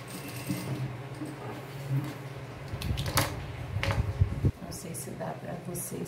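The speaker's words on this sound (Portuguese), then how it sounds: "Vamos passar uma costurinha bem na beiradinha." A sewing machine runs in short bursts while stitching close to the edge of a bell sleeve, with a person talking over the mechanical whir.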